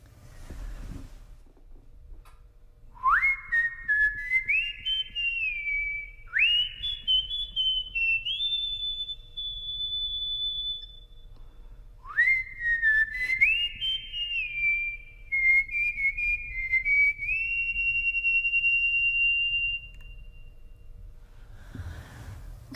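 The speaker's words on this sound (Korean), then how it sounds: "제가 원래 휘파람 부는 걸 진짜 좋아하거든요." Melodic whistling of a calm tune with added echo, three rising phrases with long held notes that glide and sustain, fairly close and alone over a low background hum.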